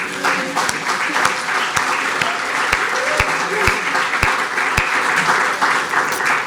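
A warm round of applause from an audience at a talk on container shipping, steady dense clapping that carries on for several seconds without a break.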